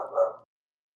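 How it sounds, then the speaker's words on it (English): A dog gives one short, muffled bark at moderate distance, followed by silence. "my sister's dog is barking"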